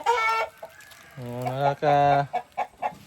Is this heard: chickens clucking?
yes